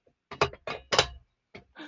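A metal Christmas tree stand used as foley for walking on metal grating, giving a few quick clanking rattles in short bursts, close and fairly quiet, with silence between them.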